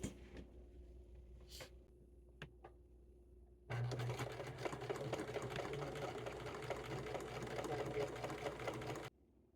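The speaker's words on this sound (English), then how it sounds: "I'm going to go ahead and stitch the 3 sides on each pillow" A sewing machine runs steadily for several seconds, stitching the three sides of a herb-filled pillow, its rapid mechanical whir close and continuous after a few quiet clicks and handling noises.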